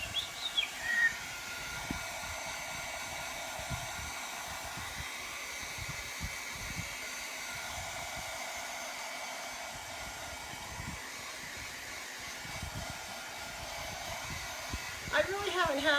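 A hair dryer blows steadily to dry paint on a fall craft, a constant close airy whoosh and hiss lasting throughout, with small handling bumps near the start and end.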